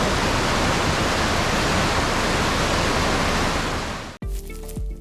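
Scenic stream along Moose Wilson Road toward Teton Village in Grand Teton National Park, a loud steady rush of flowing water that cuts off abruptly near the end.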